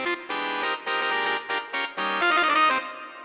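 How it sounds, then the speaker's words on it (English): Saxophones and trumpets play a brass section line in harmony, with short bright punchy phrases and a final sustained chord fading out, clear and close with no talking. "I just had the saxophones sing that part in harmony, but in the last A section, I have the trumpets join in."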